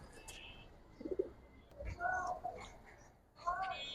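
Pigeons coo softly in a few short, throaty bursts, faint and somewhat distant, with quiet voices now and then in the background.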